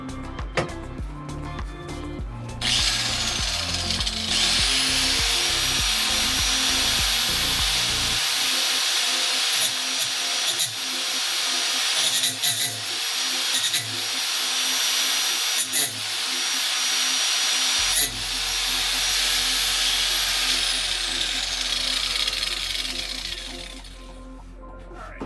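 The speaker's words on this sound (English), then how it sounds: "when the grinder comes out" A power grinder works on wood for the custom interior of a 1968 Boston Whaler 13 restoration, whining loudly and steadily for the whole stretch with shifting load and chattering contact, then winding down at the end.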